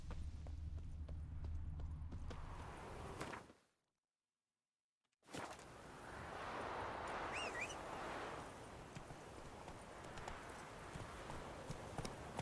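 A horse's hooves clip-clop at a steady gait in The Witcher 3 video game, an even rhythmic trot that drops out into a brief silence before resuming, with a bird chirping faintly.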